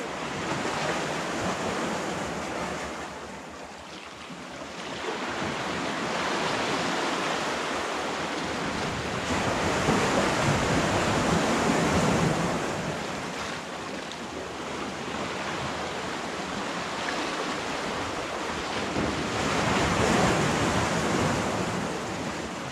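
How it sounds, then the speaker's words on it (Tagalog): Big ocean waves break and wash on the shore near Salalah, Oman, in a continuous loud roar that swells and eases over about twenty seconds, with wind buffeting the microphone and no talk. "inaabot na ng malaking alon eh"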